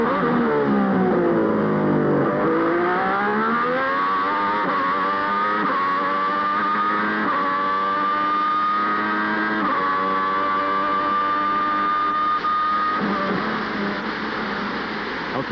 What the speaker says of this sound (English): Listen to the sound of this V12 engine.